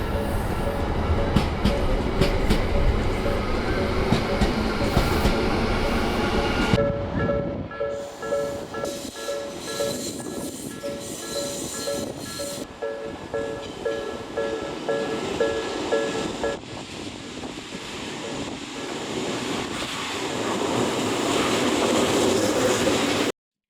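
An Odakyu Romancecar express train rumbles past close by at a Tokyo level crossing, loud and steady, while a crossing bell dings repeatedly through the middle before the noise swells again.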